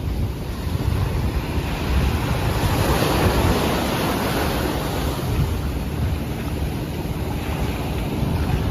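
Continuous roar of rough surf at Dinahican with heavy wind buffeting the microphone, a steady wash of noise without a break.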